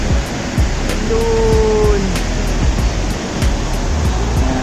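A tall waterfall at Nacali Falls in San Lorenzo Ruiz, Camarines Norte, pours down with strong flowing water, a loud, constant, close roar of rushing water. One voice speaks briefly over it.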